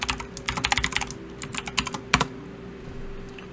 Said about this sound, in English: you have to go back to your terminal window and just type op and your player name.